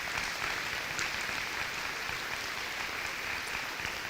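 An audience at an elementary school dedication and ribbon cutting applauds school board members, a dense, even wash of clapping that holds steady for the whole stretch at moderate distance.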